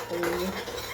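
Spices, including Kashmiri chilli powder and salt, are stirred into oil in a pan before potatoes go in, a metal spoon scraping and clinking briefly over a low sizzle.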